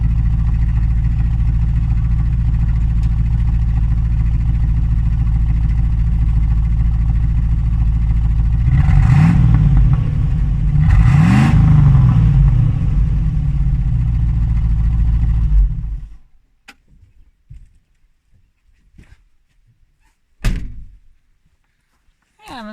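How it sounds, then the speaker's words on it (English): A 1983 GMC Vandura van engine idles loudly and steadily, swells in two quick revs, then shuts off, leaving near silence with a few faint knocks and thumps. "I will rev it up for you guys."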